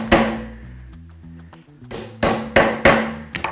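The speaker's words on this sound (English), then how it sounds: "you need to tap the retainer back down into the slot so it doesn't come off" A hammer strikes a dulled chisel against a steering rack tie rod retainer on an Austin-Healey Bugeye Sprite, giving one sharp metallic hit followed by a quick run of three or four close, ringing taps.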